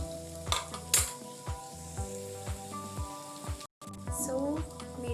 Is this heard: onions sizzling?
yes